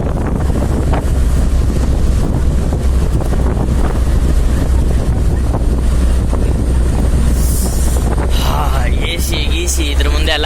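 Steady wind roars and buffets the microphone throughout on Agumbe Ghat, with low rumbling gusts and a faint high whine near the end.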